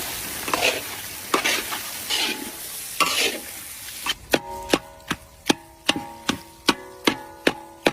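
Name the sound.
sautéing spice paste with turmeric and Kashmiri chili powder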